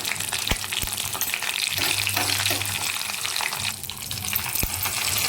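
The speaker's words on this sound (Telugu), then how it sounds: "ఇప్పుడు ఎండుమిర్చి కూడా వేసుకోవాలి." Dried red chillies fry in hot oil for a tempering, a steady close sizzle and crackle with a few sharp metallic taps from a spoon on the pan, with no talking.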